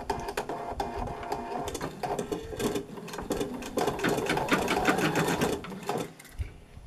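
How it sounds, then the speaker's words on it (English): An embroidery sewing machine runs steadily, stitching an applique placement line with a rapid, even mechanical chatter, close and continuous, easing off near the end. "And the machine is actually stitching the placement line."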